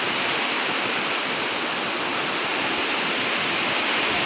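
Steady, dense rushing of water splashing down an artificial waterfall at Bird Paradise in Singapore, continuous and fairly loud with no pauses, heard up close with no voices.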